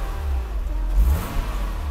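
A 1993 Mercedes W463 300GE with its freshly rebuilt M103 engine gets a quick rev, a deep, close mechanical roar that swells and settles back toward idle.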